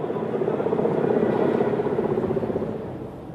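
A Chinook helicopter ferrying embassy staff in Afghanistan drones steadily overhead, its low rotor thrum holding for a few seconds before easing off slightly at the end.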